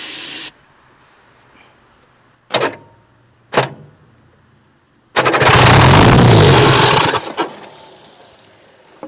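An abandoned excavator's engine cranks in two short bursts, then catches and roars loudly for about two seconds before sputtering and dying, leaving a faint hum; no talking.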